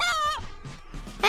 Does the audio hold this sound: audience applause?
no